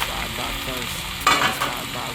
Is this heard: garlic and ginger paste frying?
yes